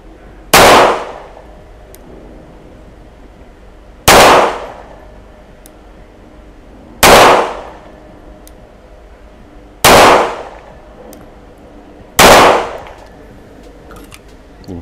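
Five single gunshots fired at a paper target on a shooting range, each a sharp loud crack with a short decay, spaced roughly three seconds apart, with quiet between shots.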